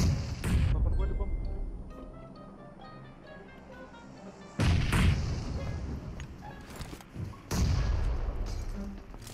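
Bomb and grenade blasts in the mobile battle royale game PUBG Mobile: three heavy booming thuds a few seconds apart, each with a long rumbling decay, loud and close, with some game noise between them.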